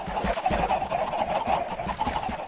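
Chickens in Minecraft cluck and chatter softly in a steady cluster of short calls, moderately near with no talk over them.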